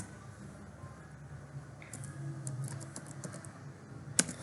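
A command is typed on a computer keyboard as a run of soft, quiet key clicks over a low room hum, with one sharper tap near the end.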